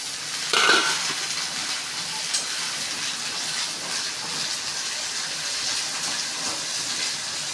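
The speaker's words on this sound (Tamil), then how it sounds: "இப்போ நம்ம தக்காளி போட்டு வதக்கிக்கலாம்." Tomatoes and onions sautéing in a pan for a banana stem curry, a steady close sizzle and hiss with a brief burst of stirring clatter early on, continuing evenly to the end.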